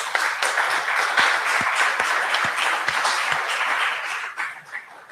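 An audience at a political forum applauds a speaker, a steady burst of many hands clapping that thins and fades out near the end.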